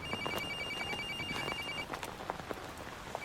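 A telephone rings faintly in the background of a film scene, a thin electronic tone pulsing through a steady hiss that sounds like rain, with small scattered clicks and no talking.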